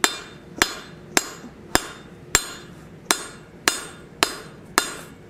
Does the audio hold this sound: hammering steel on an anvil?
yes